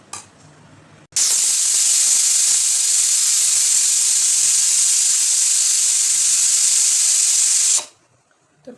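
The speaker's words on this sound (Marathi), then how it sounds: "तर कुकरच्या 5 शिट्ट्या झाल्यात." A pressure cooker on a home stove lets out a loud, sustained hissing whistle of escaping steam that starts abruptly, holds steady for several seconds, then cuts off sharply.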